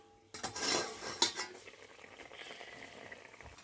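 A metal lid comes off a cooking pot of small fish, clanking against the rim, with a second sharp clink, then a soft bubbling simmer continues underneath; no talking.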